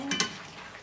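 Potatoes and carrots are stirred in a cooking pot: a faint, brief scrape of utensil against the pot over a low sizzle.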